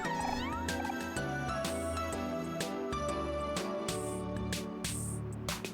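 Cat meowing in the video game OMORI, heard over a steady layer of game music, with a few short bright cries rising above the melody.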